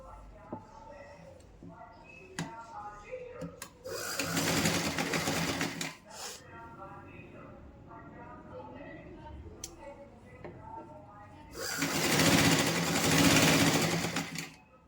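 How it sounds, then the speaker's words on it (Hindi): A sewing machine stitching a cotton dhoti, two loud steady whirring runs of a few seconds each, with quieter handling and rustling of fabric in between. "चलिए सिलाई लगा लेते हैं।"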